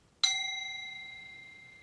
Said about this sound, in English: The bell has rung